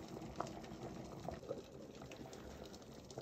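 A pot of water boils hard on a stovetop for cooking spaghetti, giving a faint, continuous bubbling and simmering hiss with small pops, steady throughout and with no talk.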